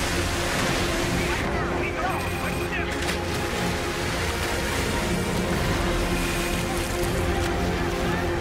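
Artificial waves churn steadily in an indoor pool during survival swimming practice, a dense continuous wash of rushing water filling the whole clip with occasional splashes.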